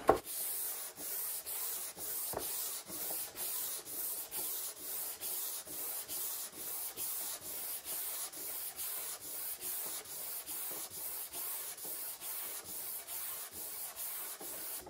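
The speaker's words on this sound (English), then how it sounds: "I'm going to block the top just so we get a nice flat finish after all that sanding" Steady rhythmic hand sanding of a wood finish with a sanding block and 180-grit paper, a dry scratchy rub repeating back and forth at an even pace, close and continuous with no talking.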